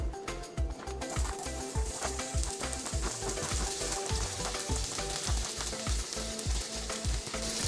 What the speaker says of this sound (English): when the oil is already hot, you can stir fry the shallots and the garlic for about 3 minutes